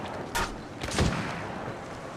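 Gunfire in the mobile battle royale game Apex Legends Mobile, heard as two or three short muffled bursts of shots over low background game noise.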